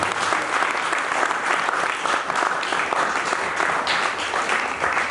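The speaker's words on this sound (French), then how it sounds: "Est-ce qu'on peut acclamer pour Papa s'il vous plaît?" A church congregation at a seminary service breaks into steady, loud applause, a dense wash of many hands clapping continuously from start to finish with no pauses.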